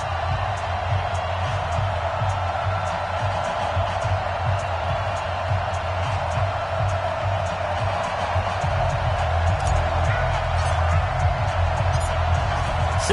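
Steady stadium crowd roar from an NFL football video game on PS4, Houston Texans facing the Detroit Lions before kickoff, a dense continuous murmur that holds at an even level for the whole stretch.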